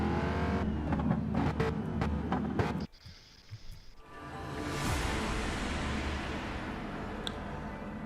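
Retro-round supercars in a racing game lined up on the starting grid at Circuit de Sainte-Croix, engines revving loudly in pulsing bursts, then a brief dip before a steady roaring drone builds again.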